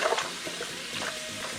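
Water pours into a bowl holding frozen shrimp and baby scallops to thaw them, a brief bright splashing rush running steadily throughout.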